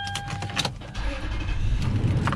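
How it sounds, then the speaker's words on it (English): A 2005 Toyota Sequoia 4x4 with about 105,000 miles starts up, a few clicks and a chime followed by the engine catching and settling into a steady close rumble. "All right, let me fire this guy up."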